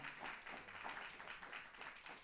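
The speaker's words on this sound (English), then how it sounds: "So let us give him a round of applause" Audience applause at a Hajj presentation and workshop honoring a mosque imam, a steady wash of many hands clapping, fairly faint and distant, sustained for a couple of seconds before cutting off.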